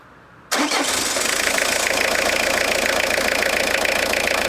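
A Renault Clio engine cranks and catches after a quiet moment, then settles into a steady close idle that runs loud and even to the end.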